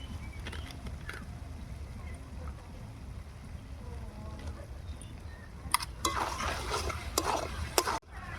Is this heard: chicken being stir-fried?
yes